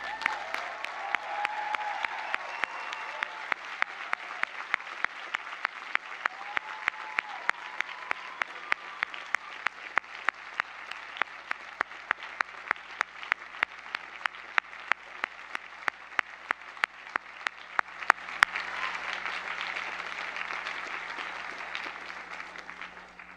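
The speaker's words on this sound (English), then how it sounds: "why don't we give them all a round of applause?" Audience applause at a college commencement, broad steady clapping from a large crowd lasting about twenty seconds, with some louder individual claps punctuating it and a slight swell near the end.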